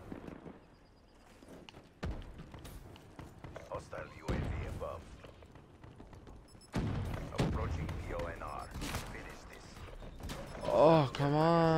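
Loud, sharp shotgun blasts from the video game Black Ops 3 land as separate heavy booms a few seconds apart, mixed with game sounds and a player talking over them.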